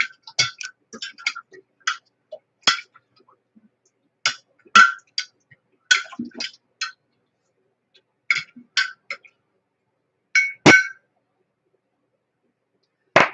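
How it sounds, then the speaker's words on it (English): A spoon stirs sorghum into hot liquid while making kombucha, giving sharp, irregular clinks and taps against a glass container, with short bursts separated by pauses, close and fairly clear. "I'm going to stir that sorghum into this hot liquid to get it mixed good."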